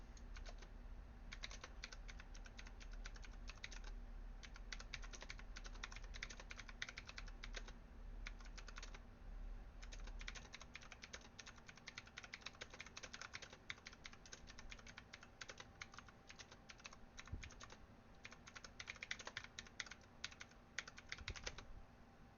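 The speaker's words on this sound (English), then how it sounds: "So we'll go ahead and type the audience in here." Fingers typing on a computer keyboard: a steady run of quick, light key clicks, fairly faint and close, with brief pauses between bursts and a low background hum.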